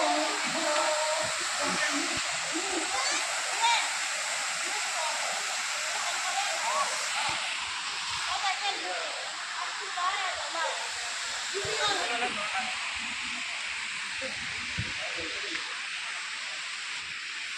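Elephant Falls, a waterfall near Shillong, gives a steady rushing roar of falling water throughout. It sounds full and hissing, close by, with people faintly talking under the constant noise.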